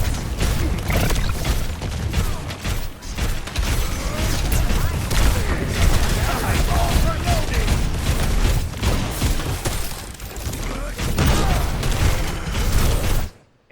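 Sustained gunfire from the game Overwatch, playing Torbjorn, a dense unbroken stream of shots and impacts mixed with game effects, loud and continuous for the whole stretch before cutting off abruptly.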